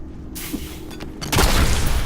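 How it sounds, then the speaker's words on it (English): A grenade goes off in the video game Diablo III: a sudden deep boom swells into a loud, sustained rumbling blast over background game ambience. "what better way to show an enemy that you hate them than throwing a grenade at them?"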